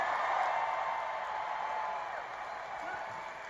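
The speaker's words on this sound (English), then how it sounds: "by the sounds of the crowd, we have some fans here" Crowd at a Disney D23 parks showcase filling the hall with a steady wash of applause and cheering, loud and sustained, easing slightly toward the end with no clear speech over it.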